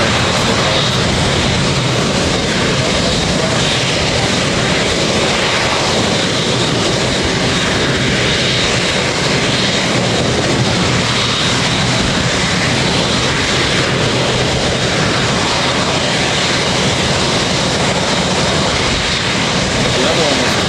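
An airliner comes in to land on a runway in Hawaii, its engines a loud, steady roar with broad rushing noise that fills the whole stretch and holds constant from start to end, with talk mixed underneath.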